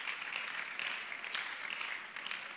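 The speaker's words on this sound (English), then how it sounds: "Let's give them another round of applause," Faint, steady applause from an audience at a church women's conference, a continuous wash of distant clapping without pauses.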